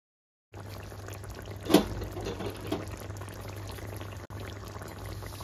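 Bele fish curry simmering in a pan, a steady soft bubbling hiss throughout with a brief louder stir or pour near the start.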